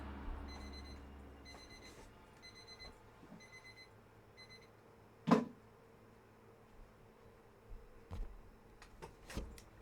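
Electronic alarm in a video game, beeping in quick repeating bursts of high, clear tones for a few seconds before stopping; a few louder clicks and thumps from the game follow, with no voices.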